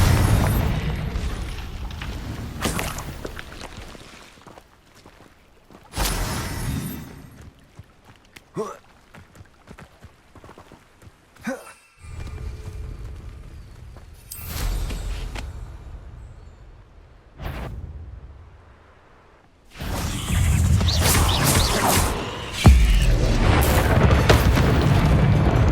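Confringo explosive spells in the Hogwarts Legacy video game blast repeatedly, with several loud booming bursts separated by quieter stretches of footsteps and faint movement, and a heavy run of explosions toward the end.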